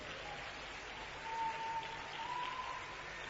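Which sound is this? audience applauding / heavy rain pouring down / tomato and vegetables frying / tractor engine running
audience applauding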